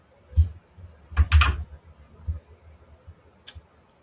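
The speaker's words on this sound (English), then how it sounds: "erase, and just type in the at symbol" Keys tapped on a computer keyboard in short bursts of close, crisp clicks, a quick cluster near the start, then scattered single taps, heard alone without talk.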